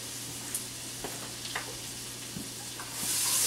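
Chunks of garlic with a pinch of salt sauté in a butter mixture, a continuous hissing sizzle broken by a few light stirring scrapes, swelling louder near the end.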